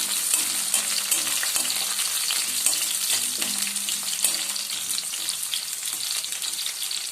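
Onions frying in a pan while cooking Chettinadu chicken fry, a steady close sizzle and crackle with occasional stirring scrapes and clicks throughout, no talking.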